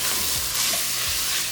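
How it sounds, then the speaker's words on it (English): A spoon stirs bay leaves, Italian seasoning, seasoning salt and paprika into goulash cooking in a pot, giving a soft continuous sizzle with a few scraping strokes, close and fairly quiet. "And we are going to mix this well."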